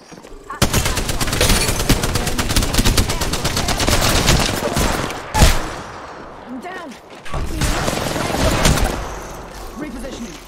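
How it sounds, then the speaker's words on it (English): Rapid video-game gunfire rattles loud and dense in sustained automatic bursts, with a brief pause and then another long volley, heard from a budget HD 7570 graphics card gameplay session. "They're shooting at me."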